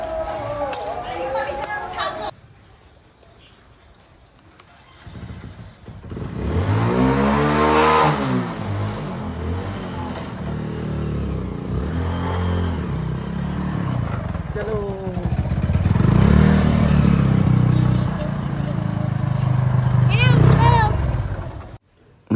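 A motorcycle engine revs up and pulls away, its medium rumble rising and holding steady under voices of children and adults talking over it.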